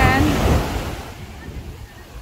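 Strong ocean waves crash on a beach in Zambales, a loud roaring surge that fades into a softer wash of water and wind buffeting the microphone.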